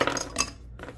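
Ice clinking into a glass while making a strawberry latte: a few sharp, close chinks in quick succession, then a brief pause and one more softer rattle.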